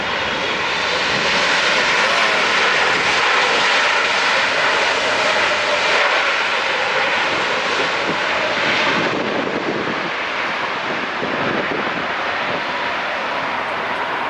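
An ANA Cargo Airbus A330 jet arriving at LAX gives a loud, continuous broadband engine roar that holds steady throughout and eases slightly toward the end, with no voices over it.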